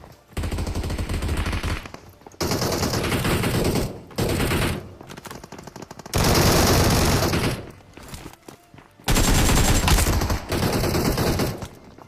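Vector submachine gun fired in a video game, several long rapid-fire bursts of loud, dense gunfire separated by short pauses.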